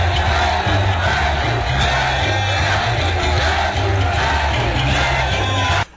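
A large crowd at a stadium rally in Côte d'Ivoire greets the head of state and his wife, a dense continuous roar of shouts and cheers, loud and close, filling the whole stretch before cutting off.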